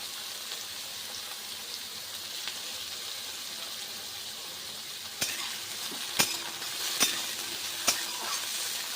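Ridge gourd fries in a pan with a continuous soft sizzle, then several sharp scraping knocks as it is stirred toward the end.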